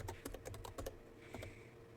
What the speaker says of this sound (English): the first thing you do is type start.